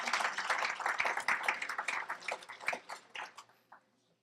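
Audience clapping in recognition of the Alpha Phi Alpha Foundation of Minnesota at an MLK Day of Service dinner, a modest burst of applause in a room that thins out and fades to a few last claps.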